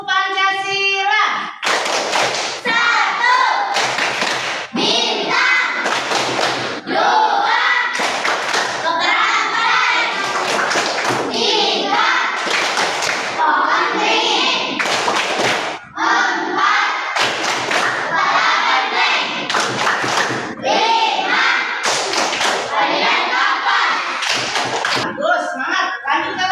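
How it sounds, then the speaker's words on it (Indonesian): A classroom group claps out the Tepuk Pancasila rhythm game, loud sharp hand claps in patterned bursts with chanted voices throughout, pausing briefly between phrases. "Tepuk Pancasila."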